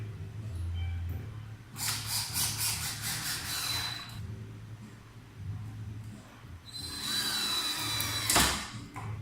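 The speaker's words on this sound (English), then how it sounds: "drives the tip of your drill bit into the wood" A power drill whirs in two bursts, spinning up and slowing as it drives a screw into wood, with a low hum and quiet gaps between runs.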